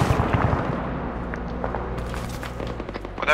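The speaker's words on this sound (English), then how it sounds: "you got cannon fire aiming at you" Booming cannon fire and explosions rumble in a game battle, heavy low thuds with crackling debris, loud and continuous over a few seconds.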